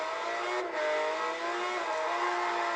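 A car's engine revs hard and accelerates in the racing game Forza Horizon, a steady, loud, high-pitched whine that climbs without a break.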